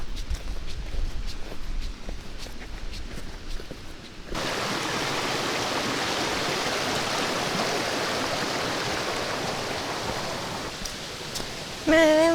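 A river runs beside a hiking trail in Borjomi National Park, Georgia, giving a steady broadband rush of flowing water that grows louder partway through, with faint footsteps earlier on and a short bright sound near the end.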